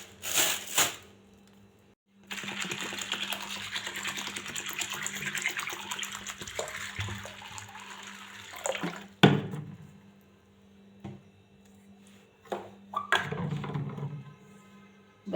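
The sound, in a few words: water poured on peas to soak them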